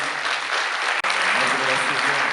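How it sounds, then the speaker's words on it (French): A crowd applauds three employees at a public ceremony with loud, dense, continuous clapping that cuts out for an instant midway and then carries on. "On peut les applaudir d'ailleurs, c'est super"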